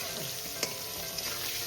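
Pumpkin pieces fry in a pan as cumin powder goes in, a continuous close crackling sizzle with a couple of sharp stirring clicks, soft overall and without voices.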